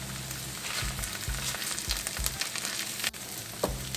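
Potatoes sautéing in a pan for aloo masala, a steady close sizzle with soft stirring scrapes and a few low knocks, continuous throughout with no talking.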